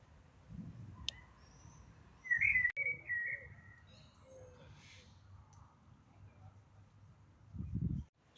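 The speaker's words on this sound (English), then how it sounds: "I don't know how many birds need to be screeching, but there's certainly a few chirping right now." Wild birds chirping beside old priory ponds: thin, scattered chirps and a short warbling call over quiet outdoor ambience, with a couple of low bumps of handling noise.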